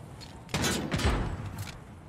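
A short volley of video game gunfire bursts out loud and close, several rapid shots running together for about a second before tailing off into quieter ambience.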